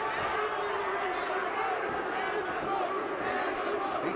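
Wrestling crowd at the TNA Slammiversary 2007 event, a dense arena roar of cheering and chatter that holds steady and loud throughout, with an announcer's voice faintly under it.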